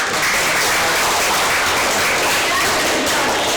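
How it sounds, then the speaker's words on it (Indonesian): A classroom group claps for group 4 after their presentation during a teacher performance assessment, dense continuous applause at a steady level throughout. "Beri tepuk tangan untuk kelompok 4"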